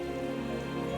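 Rain falling in the video game AFK Journey, a dense, steady patter of drops on surfaces over a continuous low tonal background hum.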